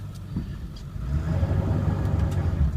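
Engine of a four-wheel-drive vehicle running steadily at low revs after being shifted into reverse, a close, continuous rumble with a slight swell partway through.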